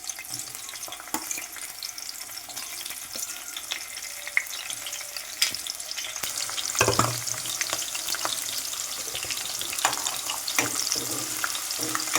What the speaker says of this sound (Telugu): ఉల్లిపాయలు అనేది గోల్డెన్ కలర్ వచ్చిన దాకా వేయించాలి